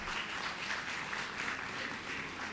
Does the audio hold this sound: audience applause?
yes